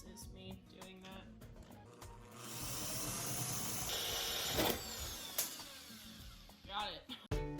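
A power grinder whines steadily against metal rivets on a school bus ceiling, a loud, harsh, sustained grind lasting a few seconds inside the echoing bus, with clunks and scrapes before and after.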